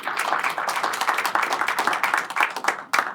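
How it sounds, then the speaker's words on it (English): Audience members at a forum on global cities and city diplomacy give themselves a round of applause, a short burst of brisk, fairly close hand clapping that thins out near the end. "So give yourselves, please, a round of applause too"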